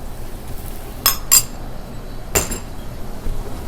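Metal spoon clinks against a pan as two tablespoons of ginger garlic paste go in with browning onions for a chicken kofta curry: three short, sharp clinks at separated moments over a quiet kitchen background, no talking.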